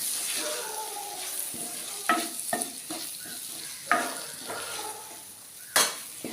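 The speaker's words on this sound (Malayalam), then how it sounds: "അര ടേബിൾ സ്പൂൺ മുളക് ഫ്ലേക്സ് ചില്ലി ഫ്ലേക്സ് ഇത്രയൊക്കെ നന്നായിട്ട് വഴറ്റിയെടുക്കാം" Chili flakes sauté in a pan for fish mezhukkupuratti, with a soft, quiet sizzle punctuated by sharp spoon scrapes and clinks against the pan at irregular intervals.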